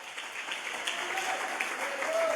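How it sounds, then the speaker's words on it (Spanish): A church congregation claps together during a Spanish-language service, a steady wash of hand claps lasting a couple of seconds, with faint voices mixed in. "Dele un aplauso al Señor Jesús en esta hora."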